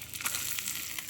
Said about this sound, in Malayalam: കുറച്ച് തേങ്ങ കൊത്തെടുത്ത് വറുത്തെടുക്കാം